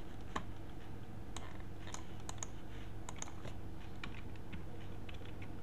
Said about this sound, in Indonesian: Kemudian kita tekan Ctrl C.